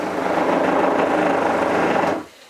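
The water pump in an Airstream Classic 33 travel trailer runs while antifreeze flows from the hot faucet, a loud, steady close rushing hum that cuts off abruptly near the end, followed by a brief knock.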